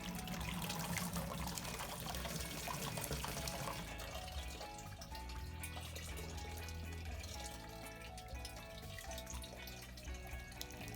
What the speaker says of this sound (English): pour the wet stuff over it, straining out the water